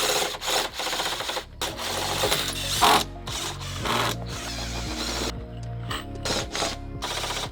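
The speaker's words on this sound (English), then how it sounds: "I'm just gonna screw a few more of these in there to hold it together better." Screws driven into deck braces on a solo-built floating deck, a drill buzzing in repeated short bursts with brief pauses between, close and fairly loud, no talking.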